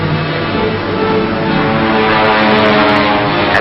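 Propeller engines of Wildcat fighter planes drone loudly and steadily overhead in a 1945 film soundtrack, a continuous rumbling roar with no pause, running above a submarine at sea.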